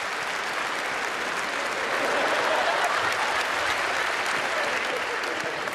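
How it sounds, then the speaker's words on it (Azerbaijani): A studio audience at an Azerbaijani TV concert show applauds to welcome guest Hafiz Hajiyev. The clapping is a sustained, even wash of many hands that swells slightly midway and keeps going for several seconds. "Alqışlarınızla."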